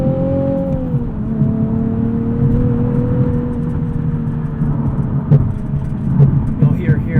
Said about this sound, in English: There's just a ton of tire noise.